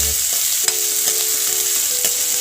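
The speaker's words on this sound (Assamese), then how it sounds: "ধুনীয়াকৈ পিঁয়াজটো ভাজি ল'ম" Two onions fry in a pan at the start of a chicken leg piece fry, a steady close hiss of sizzling with a few light scraping stirs.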